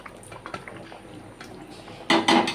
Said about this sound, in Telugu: ఇప్పుడు ఈ మటన్ని మనం ఈ బిర్యానీలో వేసేద్దాం